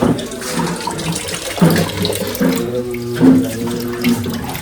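Hands being washed under a running tap at a small shop on Analai Island in Jaffna, with a steady close stream of water splashing over hands and sink throughout.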